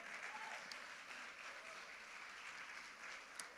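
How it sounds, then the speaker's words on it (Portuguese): A church congregation claps during a family worship service, a faint, even patter of many hands that stays steady and distant throughout, with no one speaking over it. "Aplauda o Senhor"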